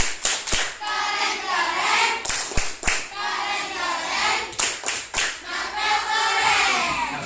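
Schoolchildren in a classroom perform a patterned cheer clap, several sharp group claps in bursts, with their voices chanting loudly between the beats.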